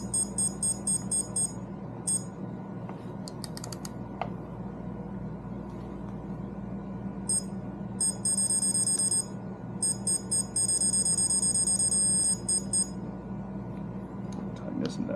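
Bursts of high electronic beeping from a Poplock digital torque adapter come and go, speeding into rapid runs near the end as the target torque nears, over a steady low mechanical hum.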